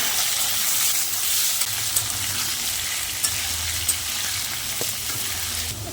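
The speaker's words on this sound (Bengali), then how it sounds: "আলুগুলো একবার ভেজে নেব।" Potato pieces fry in oil already used for frying chela fish, making a loud, close, continuous sizzling hiss with a few faint pops and no voices.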